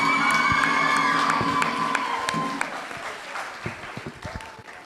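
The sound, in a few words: graduation ceremony crowd applauding and cheering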